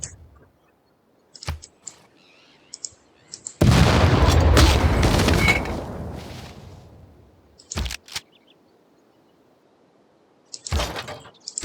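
Cannon fire in the video game Civilization VI: quiet scattered clicks and thumps, then one loud booming barrage that rumbles for about two seconds and fades, followed by more sharp isolated hits.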